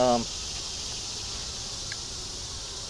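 Honeybees hum as a steady, faint drone at an open beehive during an inspection of a hive fitted with a queen excluder, after a brief voice at the very start.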